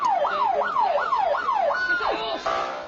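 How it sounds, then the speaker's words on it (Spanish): An ambulance siren wails in a fast rising-and-falling yelp repeated several times, then shifts to a different steady tone, loud and near. "una ambulancia entra en escena en el momento exacto."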